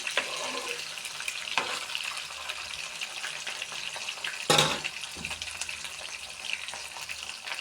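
Soft, steady sizzle of a cucumber and dried fish curry frying in a pan, with a couple of louder scrapes or stirs, fairly quiet and continuous.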